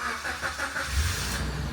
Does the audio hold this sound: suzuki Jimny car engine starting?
yes